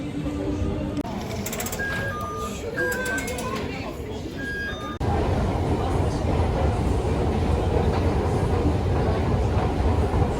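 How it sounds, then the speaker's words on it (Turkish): Steady rumble and rattle of a metro train in motion, growing louder partway through, with a murmur of voices in the carriage. "Şimdi metroya gidiyoruz."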